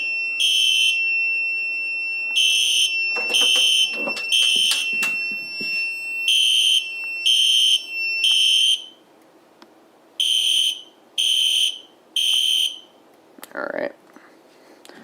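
A Firelite MS-4 fire alarm system drives a BD10 device, which sounds a rhythmic series of shrill electronic alarm bursts, continuous at first and then in separate pulses, with faint background noise and brief talking near the end.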